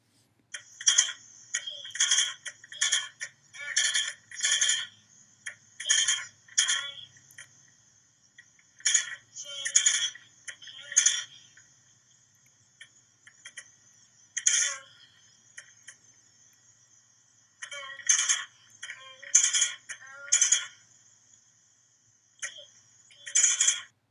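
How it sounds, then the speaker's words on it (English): Bursts of sharp mechanical key strikes from a Mountbatten Brailler typewriter, clustered in quick groups with short pauses between, close and fairly loud, no talking. "a very young student who is typing into the Braille Mountbatten Brailler"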